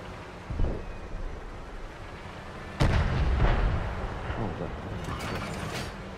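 Heavy tank gun blasts in World of Tanks, an Object 268 '56 on the Siegfried Line map, with one booming shot near the start and a louder, longer report midway that rolls out over the engine rumble of battle.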